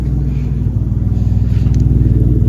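A Mitsubishi 3000GT fitted with long-tube headers and a tack-welded axle-back exhaust drones loud and close in a steady, throbbing idle rumble with a pulsing beat throughout.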